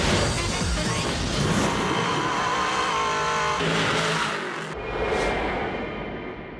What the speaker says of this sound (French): Il enchaîne les sauts avec un bolide qui développe la bagatelle de 850 chevaux.